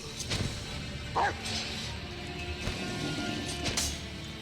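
A dog barks a few times nearby indoors, short yips over a steady background of game sound and a person talking.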